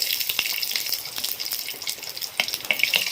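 Cumin, bay leaf and two dried chillies crackle and sizzle in hot oil at close range for a snakehead fish curry tempering, a bright steady hiss broken by sharp pops.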